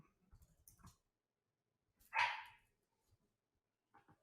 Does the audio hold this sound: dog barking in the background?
yes